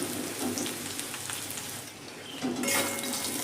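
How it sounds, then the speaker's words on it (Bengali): Raw green bananas frying in oil over medium to low heat, a steady dense sizzle that runs throughout, with a slight swell near the end as pieces shift in the pan. "মিডিয়াম টু লো হিটে করে আমি কাঁচা কলাগুলোকে কিন্তু ভেজে নিচ্ছি"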